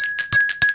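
A bright bell sound effect rings out in quick repeated strikes, loud and clear, with a sustained metallic tone under each hit, in a podcast.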